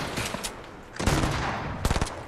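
Gunfire in Fortnite cracks out in several bursts of rapid shots, with scattered single shots first, then a dense volley, a pause and a final tight burst, loud and mid-distance.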